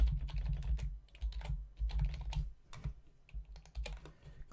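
Rapid, close keystrokes rattle on a computer keyboard while a name is typed, continuous clicking with brief pauses over a low background hum, no speech.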